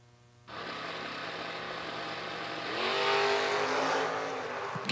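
Drag race cars, a Rambler wagon and a Mopar, roar steadily from about half a second in, swelling louder near the three-second mark as they accelerate down the strip, with no talk over the engines.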